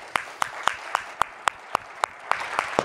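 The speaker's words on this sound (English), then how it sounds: "A big round of applause for our speakers." An audience claps for the speakers at the close of a panel discussion, sharp crisp claps landing in a steady, evenly spaced rhythm. The claps stand out over a soft hum of room noise.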